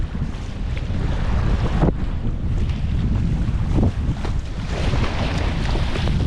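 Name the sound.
choppy tide race waves around an Itiwit X500 kayak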